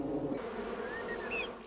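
Apis honey bees buzz inside a hive, a dense continuous drone with a few higher individual bees whining past, steady and fairly quiet throughout.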